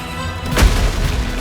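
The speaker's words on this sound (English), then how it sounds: "have them throw this explosion at you" In the Ultrakill video game, a Cerberus boss unleashes an explosion attack: a single heavy boom with a deep low-end thump and a bright burst, followed by a rumbling tail over steady game background noise.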